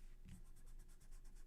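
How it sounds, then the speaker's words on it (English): A pencil eraser rubs out lines on a paper drawing, a faint, quick run of rhythmic scrubbing strokes close by, with no voice. "I'm going to erase my circle lines"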